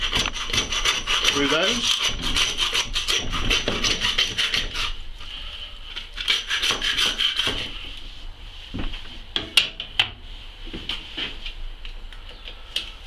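A hand saw works through a muntjac deer's pelvic bone during butchering, making steady rasping back-and-forth strokes up close and loud, then slowing into scattered scrapes and knocks, with a brief mumbled voice.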